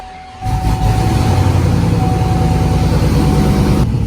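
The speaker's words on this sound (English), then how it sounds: "we're gonna start it up. Now, I took the exhaust bolts out, so it's gonna be loud" A Monte Carlo SS engine with its exhaust bolts removed cranks and catches, then idles loudly with a raw, rumbling, uneven exhaust roar that fills the whole clip.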